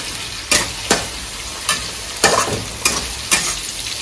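Two tomatoes sizzle in a hot pan with ginger and garlic as the gas is turned up for a mutton curry, a steady fry broken by about six scraping stirs at uneven intervals, loud and close.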